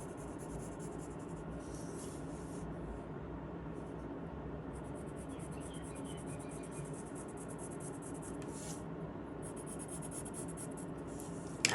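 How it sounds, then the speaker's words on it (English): Pen or pencil scratching across paper as a letter is drawn, a soft continuous scribbling rub heard close and quiet over faint background hiss, without talk. "Now I want you to draw your letter Z or whichever letter you have."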